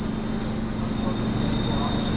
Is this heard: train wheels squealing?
yes